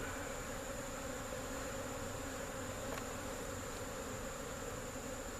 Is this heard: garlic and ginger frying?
no